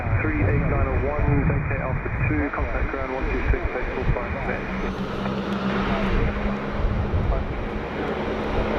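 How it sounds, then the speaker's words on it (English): A Regional Express (Rex) airliner takes off at Sydney Airport, its steady engine roar filling the scene from start to finish while people talk continuously over it. "And that Rex is next to take off."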